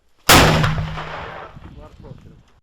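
A single loud artillery boom with a sharp onset at a Ukrainian frontline position near Pokrovsk, then a long rumbling decay rolling away over a couple of seconds.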